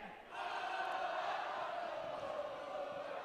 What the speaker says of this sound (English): And they start to cheer.